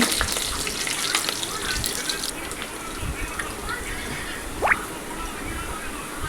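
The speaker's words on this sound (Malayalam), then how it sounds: "ചെറിയ ഉള്ളി രണ്ടും കൂടെ ഒന്ന് താളി വരട്ടെ" Small onions sautéing in oil with popped mustard seeds give a soft, continuous sizzle and crackle, fairly faint and close, with occasional light clicks and scrapes and no clear speech.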